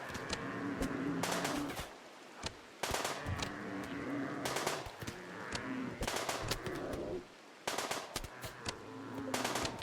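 Bursts of automatic gunfire from a RimWorld raid on a nomadic tribal colony, loud rattling volleys with short gaps between them, mixed with game bird coos and ambient sounds.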